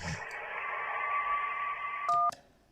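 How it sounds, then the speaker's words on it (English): A phone ringing underwater in the game Kentucky Route Zero: a steady, muffled, warbling tone that drones for about two seconds, then ends with a brief loud keypad beep. "That was a phone ringing underwater."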